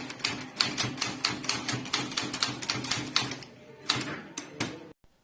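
Keys clatter on a manual typewriter during an English letter-typing lesson, with rapid sharp strikes in an uneven rhythm, a brief pause, then a few more hits before stopping.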